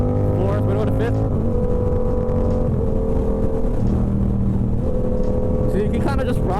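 Motorcycle engine droning loud and steady while riding and shifting gears without the clutch, with pitch changes and a rising rev near the end, a rider talking over it.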